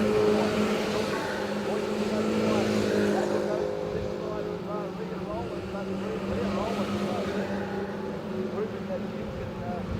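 A quick race car runs at Central Motor Speedway in Cromwell, engine droning steadily at a distance under a loudspeaker announcer's voice.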